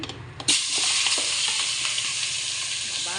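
Chicken meat dropped into smoking-hot oil in a cooking pot, bursting into a loud, continuous sizzle and crackle after a brief clatter, close and steady to the end.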